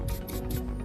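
Pink carrot bit on an electric nail drill filing down a coffin-shaped nail, a steady close grinding rasp that pulses in three short surges over a continuous low motor hum.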